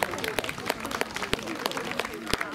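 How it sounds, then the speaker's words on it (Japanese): A crowd at a spring town festival of local folk performing arts applauds, with dense, fairly faint clapping and some sharper nearby claps mixed with crowd voices. "皆様今一度盛大な拍手をお願いいたします。"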